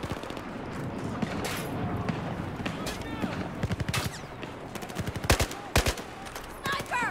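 Rapid gunfire in the video game Battlefield 4, with bursts of automatic shots and sharp single cracks scattered throughout, fairly loud and close, while a player talks over the action.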